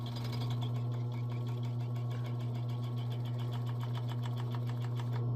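A sewing machine stitches sable and ranch mink fur hat panels with 90 weight cotton thread, its fast, steady mechanical chatter running continuously and close for the whole stretch, with a low motor hum underneath.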